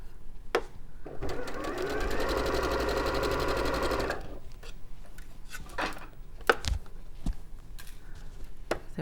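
A sewing machine stitches a dress seam in a steady, rapid run of about three seconds, followed by quiet handling clicks and taps on the work.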